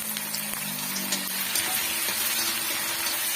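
Onions and tomatoes sautéing in a pan for a Tamil-style potato poriyal, a steady close sizzle and crackle running continuously with a low hum underneath and no voices.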